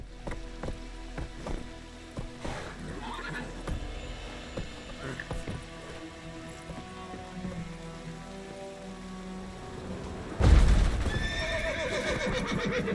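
A horse in The Witcher 3: Wild Hunt whinnies amid clip-clopping hooves and faint rain, then a louder burst of movement near the end.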